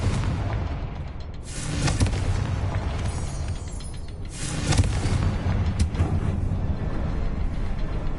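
Rumbling blasts of the Confringo fire spell in Hogwarts Legacy, a couple of booming bursts over a steady low roar of battle ambience.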